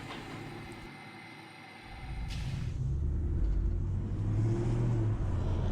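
A Mercedes AMG driving in a car park, its engine rumble swelling from quiet idle into a steady, loud, low drone that holds close by with no talk.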